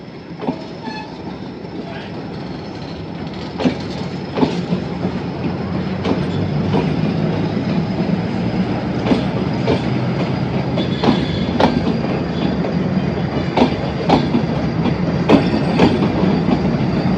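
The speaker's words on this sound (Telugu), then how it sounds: "సో ఇంత మంచి టాయ్ ట్రైన్ ఉంది." Ooty toy train rolling along the rails, loud and close, with continuous rumble and a steady rhythm of clicking wheel beats and occasional metallic squeals.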